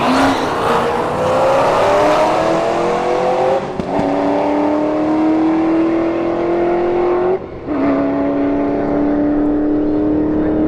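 Drag race between a Mustang and a Subaru Forester at a motorsports park, the Mustang reaching 134 mph: loud, continuous engine roar with rising pitch through the gears, two brief dips at shifts, no talk.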